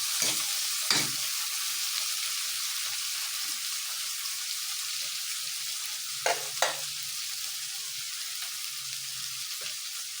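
Tomatoes frying in a pan for a mung bean dish give a steady, close hiss of sizzling, broken by a few brief clatters of stirring near the start and middle, with no voices.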